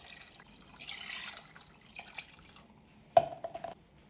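Water trickles and splashes quietly into a cooking pot holding green chillies and shallots, followed by a sharp knock and a brief pouring burst near the end.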